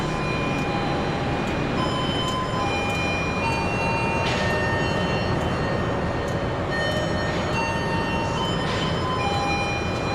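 The Parahyangan passenger train pulls out of a station with a steady, loud rumble of wheels and carriages, and faint tonal squeals ring out over the continuous noise.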